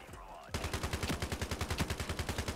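A G36C rifle fires a sustained automatic burst in the shooter game Ironsight, about twenty evenly spaced sharp cracks following a brief quiet lead-in, loud and close.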